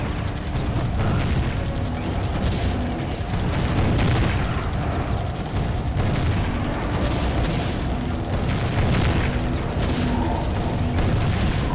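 Cannon towers fire in the strategy game Defense Grid, a dense, continuous barrage of deep booms and bursts layered over rumbling game noise, loud throughout.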